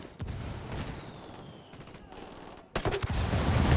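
In the video game Ghost Recon Wildlands, mortar fire lands as rough explosive bursts and crackling blasts, fairly quiet at first, then a heavier, louder barrage that keeps rumbling to the end.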